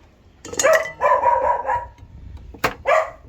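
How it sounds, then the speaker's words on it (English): A guard dog barks sharply and close by, a few loud, abrupt barks with brief gaps between them and nothing else behind. "we got a little problem with the dog right now. He's a guard dog. Don't know his name, but he likes to bark."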